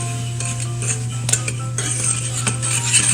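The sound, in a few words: mixing glutinous rice flour and sugar in a bowl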